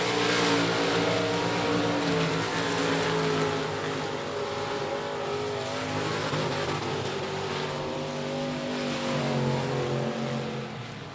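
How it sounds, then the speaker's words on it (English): USRA Limited Modified race cars circling I-37 Speedway during a heat race, a continuous loud roar of engines droning and shifting pitch as the pack runs laps, with no talk over it. "Kevin Parker wrapping up the USRA Limited Modified Heat Races."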